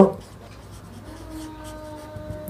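A pen scratches across paper while a math problem is worked out, close and quiet with short scribbling strokes and a faint room hum behind.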